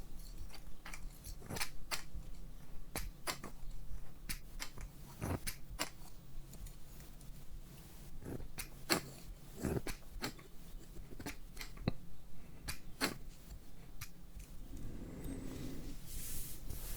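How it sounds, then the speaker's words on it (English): Metal scissors snip repeatedly in crisp, close, sharp clicks at an irregular rhythm, used as a soft transition between quiet unboxing sounds of AirPods Pro 3 and Soundcore Liberty 5 Pro earbuds. "what I can use them for is some scissor noises as a transition"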